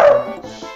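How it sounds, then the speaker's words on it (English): A puppy lets out a single sharp, high yip that trails off into a whimpering whine, loud and close, heard alone. "I'm not sure why my puppy's barking, but he's barking at nothing."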